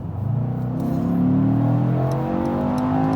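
A 2021 Mercedes-AMG E63 S Estate wagon floored at full throttle on an on-ramp in Sport Plus or Race mode, its engine climbing steadily in pitch, loud and close, with quick gearshift breaks near the end.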